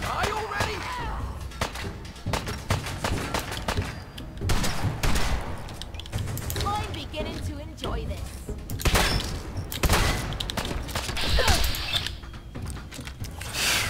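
Gunfire in Fallout 4 comes as loud, sharp repeated shots and bursts spread across the clip amid game noise, with a player talking between them.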